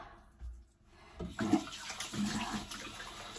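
Tap water runs at a sink for washing the face, starting after about a second as a faint, steady splashing stream at close range, with no talking.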